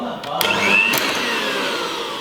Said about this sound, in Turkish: Mikserimi çalıştırmadan önce karıştırıyorum. Çırpmaya devam ediyorum.